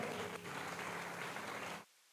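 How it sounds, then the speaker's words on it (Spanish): Steady applause from a church congregation fills the room, then cuts off abruptly near the end. "Dale un aplauso fuerte al Señor."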